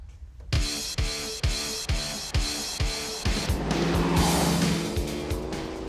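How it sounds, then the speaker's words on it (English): A Jeep JK Wrangler on stock-size tires with a swapped-in V8 Hemi revs in a rapid series of rhythmic engine pulses, then surges into a sustained, loud roar with tire squeal layered on top, recorded up close. "we wanted to see how a stock JK Wrangler on stock size tires would drive and handle with"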